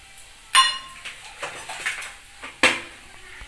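Spices dropped into hot oil in a pot on a home stove, with sharp clinks of metal utensils against the pot and a brief crackle after each addition, close and moderately loud.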